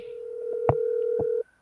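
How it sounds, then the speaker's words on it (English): A telephone being dialed to call someone back: a steady tone sounds while a few separate button presses click in, then the tone cuts off abruptly. "Let me call him back."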